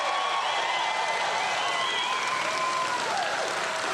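Crowd at a Donald Trump campaign rally in Wisconsin breaks into sustained, dense applause with scattered cheers, loud and steady from start to finish.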